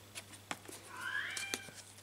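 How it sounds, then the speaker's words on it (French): A house cat gives one drawn-out meow in the middle of a quiet room, mixed with faint clicks and soft tapping sounds and a low steady hum. "on entend Burton, c'est le chat de ma fille que je vais garder pendant un bon moment"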